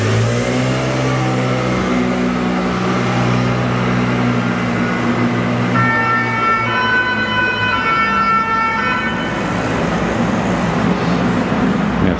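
A fire engine siren wails steadily on a Paris street, loud and close, with its tones sliding as the truck passes amid engine noise and traffic.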